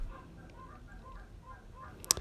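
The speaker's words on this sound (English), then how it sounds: "Oh my God, the birds." Geese or similar fowl honk outdoors near a home kitchen, several faint repeated calls spaced across a low background hum, ending with one sharp louder click or knock.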